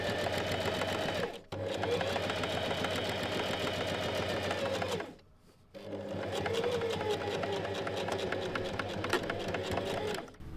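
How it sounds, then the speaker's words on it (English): A sewing machine top-stitches close to a seam on wide-leg pants, a steady, fast mechanical whir running continuously, broken by two brief pauses before resuming. "it helps to gently pull the fabric apart with both hands while sewing, so you can top stitch really close to the seam"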